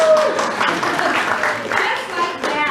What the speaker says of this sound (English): Ring that bell, and we will actually cheer for you.